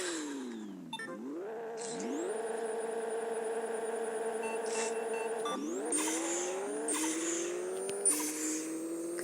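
Race car tyres squeal in the Pixel Car Racer video game as the engine revs, with sustained rising and falling whines, sharp gear-shift drops and screeching skids, all clear and without talk.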